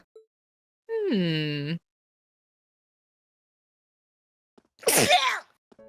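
A single sharp sneeze bursts out close by near the end, preceded by a short drawn-out vocal sound and otherwise silence.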